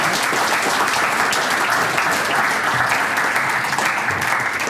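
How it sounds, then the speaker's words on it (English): A conference panel audience claps in a dense, sustained round of applause, loud and even throughout, with no voices standing out. "I think we should give Scott a round of applause for being available"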